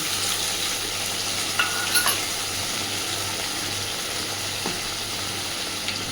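Rinse water from a spice bowl poured into a frying pan while cooking rui posto, a steady close sizzle with a few small clinks and brief splashes.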